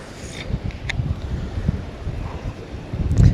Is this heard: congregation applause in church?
no